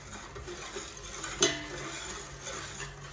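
A spoon stirring a sugar mixture in a bowl for eggless teacake batter, a soft steady scraping with one sharper clink against the side, close and quiet with no talking.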